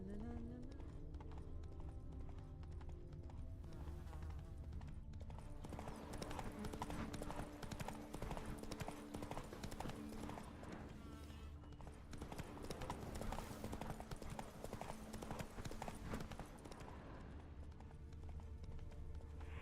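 A horse gallops in The Witcher 3, its hoofbeats pounding in a fast continuous rhythm under a dense layer of game music and ambience, loud and close throughout.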